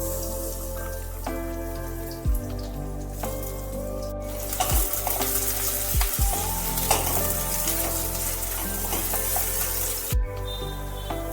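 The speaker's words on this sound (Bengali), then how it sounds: "সরু করে কেটে রাখা পেঁয়াজ 3টে আমি ভাজতে দিয়ে দিলাম।" Thinly sliced onions fry in mustard oil in a steady, dense sizzle, loud and close, with a few utensil knocks and stirring sounds, while music plays underneath and nobody speaks.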